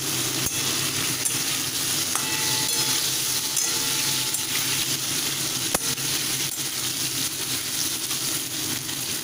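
Potatoes fry in oil over raised heat, a loud continuous sizzle and crackle close up, with occasional clicks and taps of a spatula against the pan.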